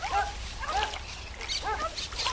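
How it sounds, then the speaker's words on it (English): Dogs barking at a distance, with a few bursts of yaps rising and falling over steady outdoor background noise. "They continued barking from the shore."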